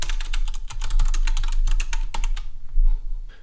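Rapid, steady typing on a computer keyboard while entering an address into a shift form, with dense, close, crisp key clicks running continuously before thinning out near the end, with no voice.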